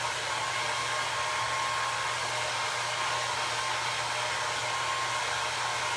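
Steady, continuous whir of a hair dryer blowing on a vintage wooden Christmas tree, loud and close with an even hum throughout and no talking.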